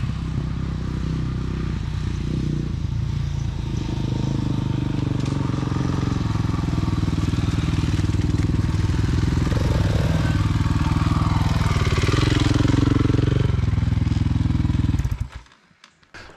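A budget dual sport motorcycle, a roughly $2000 Brozz, drones loudly and continuously as it climbs a hill toward a campground, engine close and steady with some clatter, then cutting off abruptly near the end.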